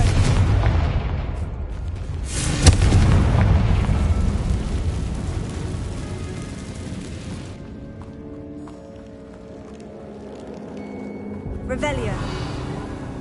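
Confringo blasting spell in the Hogwarts Legacy video game: a sharp explosive boom followed by a rumbling decay, then quieter game sounds and a brief magical shimmer near the end.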